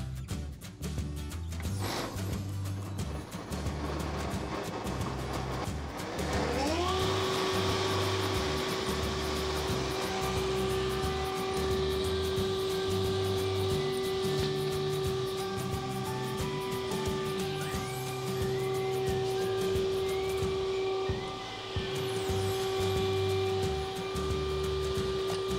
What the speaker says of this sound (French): et là maintenant, la raboteuse, si je démarre, elle va démarrer là.